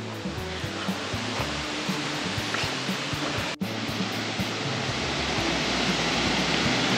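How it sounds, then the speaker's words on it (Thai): A strong-flowing waterfall at a Thai forest park, heard from near a footbridge crossing it: a loud, dense, unbroken roar of rushing water that fills the whole clip with no voices. "สะพานข้ามน้ำตกโอ้ตรงนี้น้ำแรงน้ำค่อนข้างแรง"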